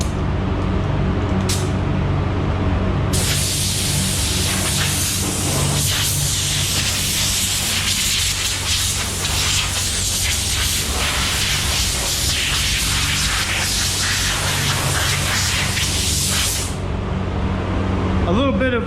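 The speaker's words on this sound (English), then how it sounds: "The fan's running." A blower fan blows dust off a Kia car bumper before painting. It starts after a few seconds, then roars as a loud, steady rushing hiss that cuts off near the end.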